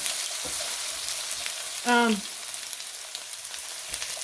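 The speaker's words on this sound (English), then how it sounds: "So there's my potatoes. We'll saute them a bit. I put a little olive oil in here" Potatoes and bell pepper sauté in olive oil in a pan, a steady soft sizzle running throughout, broken near the middle by a brief louder scrape or clatter that rings for a moment before the frying hiss carries on alone.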